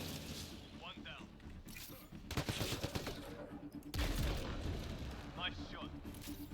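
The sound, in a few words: gunfire in the video game Mass Effect: Andromeda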